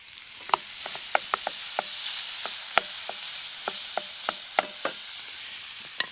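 A pound of hamburger meat sizzles steadily in a hot pan, a close, even hiss of frying broken by a series of sharp pops and spatters spread across the stretch.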